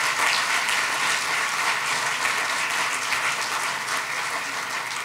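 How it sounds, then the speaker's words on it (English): An audience at a 2015 inauguration applauds elected officials with sustained, dense clapping that holds at a steady level for the whole stretch, with no voices rising above it. "we'd like to give you another round of applause and thank you for your service"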